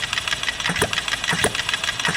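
A small HM-01 kit model engine runs continuously on a half tank of fuel, its fast buzzing chatter steady and close, with periodic knocking pulses and no voices.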